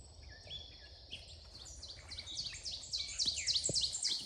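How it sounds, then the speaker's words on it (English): Several woodland birds sing along a brook trail, bright chirps and warbling phrases building from sparse calls to a busier overlapping chorus, fairly close, with a faint insect hum and no talk. "The birds."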